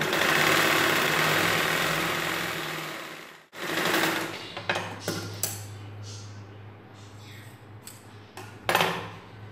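A sewing machine stitches a blouse belt, whirring loudly and steadily before a brief pause, then giving way to a low hum with scattered clicks and taps of handling.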